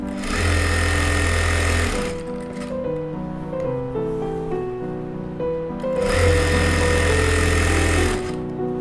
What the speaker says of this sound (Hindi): अब हम इसमें सिलाई लगाएंगे